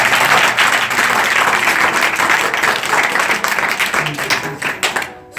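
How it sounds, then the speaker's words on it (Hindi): A congregation at a prayer meeting in Amer, Jaipur, Rajasthan breaks into loud, energetic clapping, a thick burst of many hands close by that holds steady and then tapers off at the end. "यीशु के नाम में जोरदार ताली दीजिए।"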